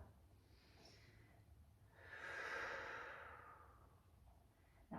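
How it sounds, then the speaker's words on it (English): A single deep breath during a yin yoga session, a quiet inhale that swells into a long, soft exhale, heard up close with no talk over it. "One more big breath."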